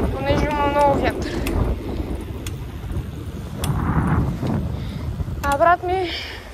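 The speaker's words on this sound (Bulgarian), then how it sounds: "Понеже има много вятър." Wind buffets the microphone in low rumbling gusts while people talk intermittently nearby.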